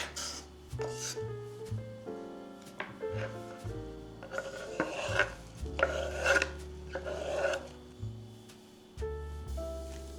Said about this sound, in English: We chop the pepper finely